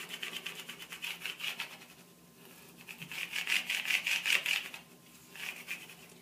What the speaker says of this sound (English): I'm going to go ahead and take my burnishing tool and rub that very well.